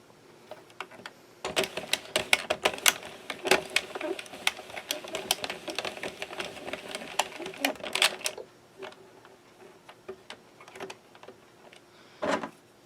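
A knitting machine carriage is pushed back and forth across yarn while making a ponytail hat, giving a busy run of rattling clicks and clacks for several seconds, then quieter scattered clicks and one last short burst.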